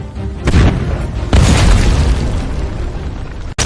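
A gunpowder mill explodes in a deep, roaring burst, followed by a second heavy boom that rumbles on loudly before cutting off abruptly.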